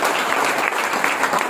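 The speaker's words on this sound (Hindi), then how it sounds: "चले एक बार तालियां बजा दीजिए।" Sustained applause from a crowd at a business plan meeting, dense and steady clapping filling the whole moment without a break.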